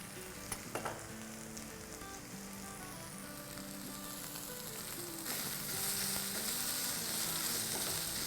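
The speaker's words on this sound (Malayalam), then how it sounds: "ചുമന്നുള്ളി നല്ലതായിട്ട് ഇടുക, ഒന്ന് വഴറ്റിയെടുക്കുക." Shallots with salt sizzling in a hot pan: a steady close frying hiss that thickens and grows louder near the end, with a couple of brief utensil clicks early on.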